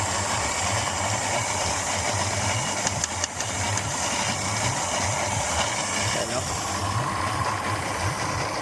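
A vehicle engine idles steadily while warming up, a continuous low mid-pitched running rumble with slight knocking vibration, fairly close and unchanging.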